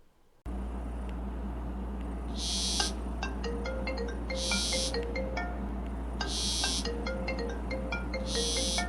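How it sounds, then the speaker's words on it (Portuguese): A Zeblaze GTS 3 Pro smartwatch plays an incoming-call ringtone that loops as a bright repeating melody with regular beeping bursts. It is loud and close and runs alone after a brief silent start. "ele toca, além de vibrar, fica vibrando até você atender."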